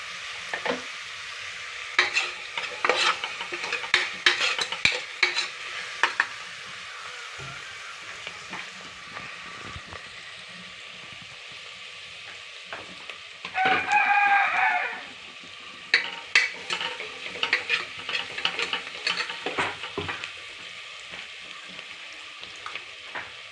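Fenugreek seeds and onions fry and get stirred in a pan, with scraping and clattering bursts of stirring over a steady close sizzle, and one louder sizzling surge midway.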